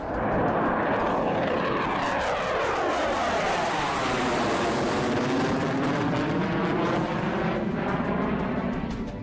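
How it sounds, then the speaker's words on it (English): Fighter jet engines roar loudly overhead in the airspace over Ladakh, a continuous powerful rush with a sweeping pitch shift as the aircraft pass, and no voices. "The roar of fighter plane engines belying the tense calm in the forward areas."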